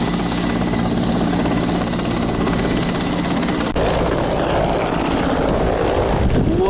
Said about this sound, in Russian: Вертолет садится.